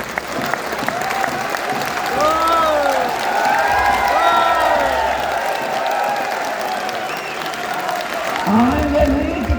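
A crowd at a political gathering applauds steadily and loudly for several seconds, dense clapping with some cheering mixed in and voices audible through it.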